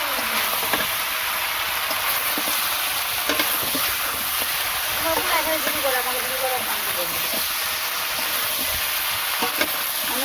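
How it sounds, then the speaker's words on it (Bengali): Water pours and splashes into a hot pan of braised meat, setting off a continuous broad hiss and bubbling sizzle, with a few scraping stirs over the steady noise. "এই যে জল দিয়ে দিলাম।"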